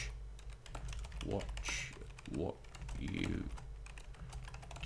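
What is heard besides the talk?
computer keyboard typing while playing a video game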